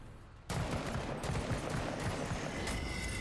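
Sustained burst of gunfire in the turn-based tactical RPG Menace, a dense rattling volley that starts abruptly and continues steadily at close, loud level with no talking.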